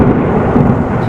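Heavy rain pours down on a village at night, with a loud, dense roar and deep rumbling thunder rolling steadily beneath it, near and continuous.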